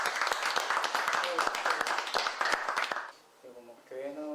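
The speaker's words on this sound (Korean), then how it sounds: "박수. 박수." A church congregation claps for a newly introduced guest at a Sunday afternoon service: a dense burst of sharp hand claps for about three seconds, then it fades and a voice starts speaking.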